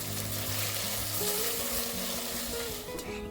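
Thinly sliced medium onions frying in hot oil toward golden brown for a mutton biryani, a dense close sizzle running without a break, with faint background tones and no voices.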